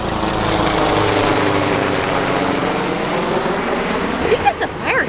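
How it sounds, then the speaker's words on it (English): A fire helicopter passes overhead with a loud, steady rotor and engine roar that fills the scene, then eases as it moves away, leaving brief rustling nearby at the end. "I think that's a fire helicopter."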